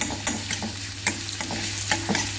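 Coarsely crushed garlic fries in refined oil for bread pakora, giving a steady soft sizzle close by, broken by several sharp stirring scrapes at irregular intervals, with no talking.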